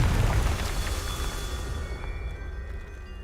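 The Confringo fire spell goes off in Hogwarts Legacy with a loud, close blast that rolls into a rumbling, fading roar over about three seconds.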